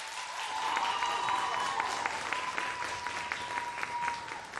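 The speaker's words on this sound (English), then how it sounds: "Can we clap our hands one more time?" Audience clapping hands at a televised talent show final, steady dense applause from a crowd, sustained and even throughout with no voices on top.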